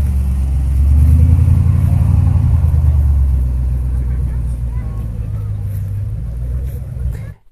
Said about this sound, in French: Donc ici on voit une Camaro qui s'en va.